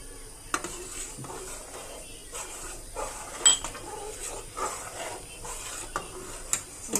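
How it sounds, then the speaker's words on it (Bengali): Jaggery being stirred in a metal pot to melt it: a spoon scrapes and clinks against the pot in irregular bursts, fairly close and quiet, with occasional sharper taps. "গুড়টা দিয়ে আমি এটাকে নেড়ে চিড়ে গলিয়ে নেব"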